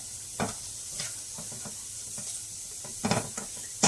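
Food sizzles quietly in a pan during keto meal prep, cut by a few soft scrapes of stirring, close and alone.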